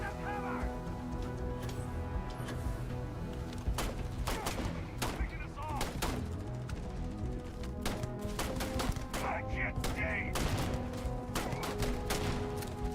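Rapid gunfire and explosions from combat in the space video game Starfield, with dense bursts of sharp shots and blasts rattling continuously throughout over a steady tonal backdrop.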